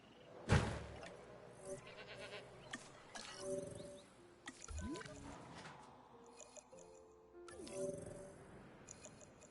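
Several short goat bleats in the video game Jurassic World Evolution 2 ring out among background chatter and clatter, with voices talking intermittently throughout.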